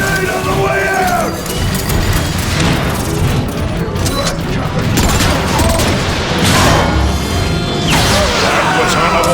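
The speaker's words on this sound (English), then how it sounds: "Grenade on the way out!" Grenade blast in the game Transformers: Fall of Cybertron, a loud crashing explosion amid rapid gunfire and metallic impacts, with dense battle noise continuing throughout.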